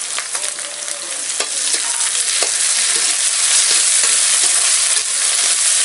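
Onions frying in oil with ginger, garlic and green chili paste for a bean (barbati) curry give a loud, steady sizzle with occasional stirring scrapes, close and continuous without talk.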